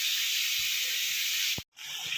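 Chicken meat for butter chicken frying in a pan, a steady loud hiss and sizzle that briefly cuts out near the end and then resumes, no talk.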